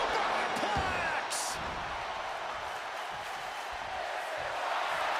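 A superplex in a steel cage wrestling match for the AEW Championship lands with a heavy slam against a loud, roaring arena crowd, the impact quickly swallowed by sustained crowd noise.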